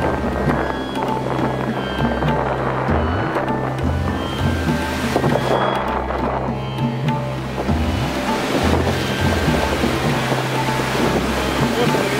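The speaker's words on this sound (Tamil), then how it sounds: "கடல் அலை பாடி வர சத்தத்தை நீங்களே கேளுங்க." Sea waves break on the shore at Tranquebar, a continuous roaring surf with swelling surges, mixed with steady wind buffeting the microphone and a low engine-like drone throughout.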